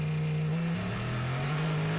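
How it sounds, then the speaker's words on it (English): A Cadillac hypercar's V8 engine pulls out of the pits during a WEC race at COTA, a fairly quiet, continuous low engine tone that shifts slightly in pitch as it accelerates. "that V8 engine refires one more time, and Lynn is sent back on his way"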